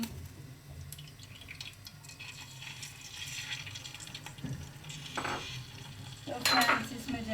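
Oil goes into a hot pan on a lit flame while cooking an aloo baingan sabzi, a soft crackling sizzle with light stirring and clinks of utensils, swelling into a louder burst near the end.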